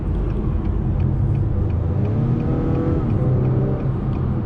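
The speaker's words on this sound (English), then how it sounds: "But definitely this engine picks up really good." A 2021 Acura TLX engine pulling through a 10-speed automatic, a steady low rumble rising in pitch as it accelerates, heard from inside the cabin without talk.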